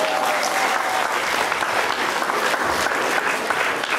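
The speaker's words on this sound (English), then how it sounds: "Why don't we welcome them with a big round of applause?" A crowd at a Zo Khuado Pawi community gathering in New Zealand applauds, giving steady, dense clapping that stays loud and even throughout, close to the listener, with no one speaking over it.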